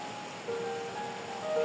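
Steady rain in a rural village in Kuala Pueh, Terengganu, a continuous soft hiss of drops on surfaces throughout, fairly even with a slight swell toward the end and no talk over it.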